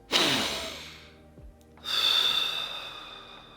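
A man demonstrates deep breathing: a long audible inhale, a brief pause, then a long forceful exhale, close to the mic with no talking.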